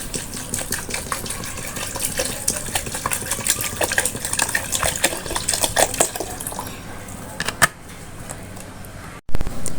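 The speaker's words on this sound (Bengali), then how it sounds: "এখন ফ্রিজে রাখা ঠান্ডা পানি দিয়ে দিলাম।" Cold water from the fridge is poured into a roasted raw mango drink with mint and salt, splashing and gushing close up for several seconds before stopping, followed by a short clatter.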